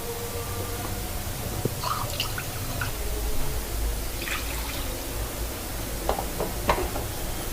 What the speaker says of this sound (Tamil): இன்னுமே தண்ணி ஆட் பண்ணிக்கலாம்.